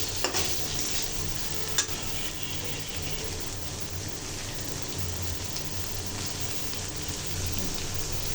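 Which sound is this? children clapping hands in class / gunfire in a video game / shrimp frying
shrimp frying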